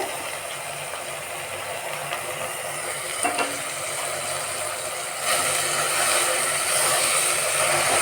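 Chopped fenugreek leaves are stirred and fried in oil for a pulao, giving a soft, continuous sizzle with faint scraping that grows louder in the second half.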